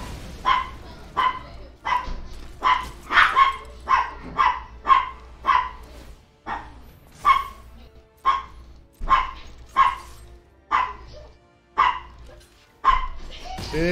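Dogs bark in a steady run of sharp, evenly spaced woofs, well over a dozen in a row, close and loud, with a voice calling to them now and then.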